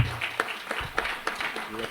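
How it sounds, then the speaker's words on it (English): Forum audience gives panelists a round of applause, a modest scattering of claps with distinct sharp hits over murmuring voices, fairly light and brief. "Can we give a round of applause again?"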